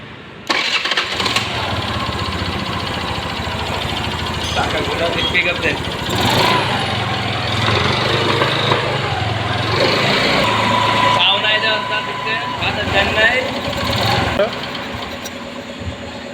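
A TVS scooty with a pickup fault is started, its small engine catching and then idling with a steady buzzing note that rises and falls with throttle, close and loud, with people talking over it.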